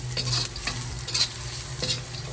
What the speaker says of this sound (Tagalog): Lutuin natin ang ating dilis. Bigyan ko lang ng onting oil